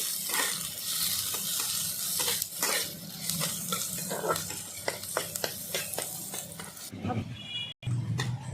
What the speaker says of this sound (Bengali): পেঁয়াজটাকে প্রথমে ভেজে নেবো একটু লাল লাল করে